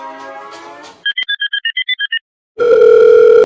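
A telephone being dialed to place a call: a quick run of about ten evenly spaced keypad beeps follows a brief voice, then after a short pause a loud, steady continuous line tone sounds.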